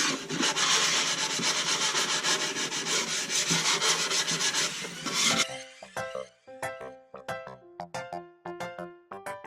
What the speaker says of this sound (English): I gave it a light sanding to round the edges